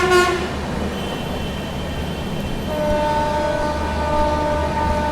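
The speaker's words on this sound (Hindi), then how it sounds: "और यहाँ पर लगी हुई है दोस्तों आप लोगों की पंजाब मेल, जिसको हम लोग ओवरटेक करेंगे।" The 12450 Goa Sampark Kranti Express runs past the Punjab Mail on the Delhi to Goa line, a steady rumble of rolling wagons with a loud horn blast at the start and a long sustained horn later.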